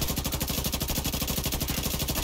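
Shotgun fire in Tom Clancy's The Division 2 comes as a loud, fast, evenly spaced string of shots, one after another with no pause, close and dominant.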